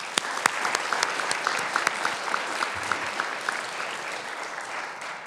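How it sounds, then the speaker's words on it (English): Audience clapping at a youth entrepreneurship challenge event, a steady wash of applause with a few sharper individual claps standing out, gradually tapering. "Let's give another round of applause."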